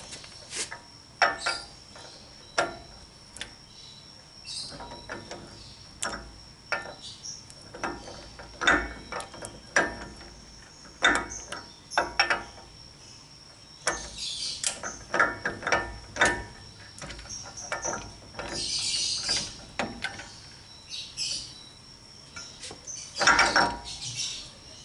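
A torque wrench ratchets on the front wheel hub of a Suzuki Katana as the hub is turned, giving repeated sharp clicking bursts at irregular intervals, close and clear with no talking.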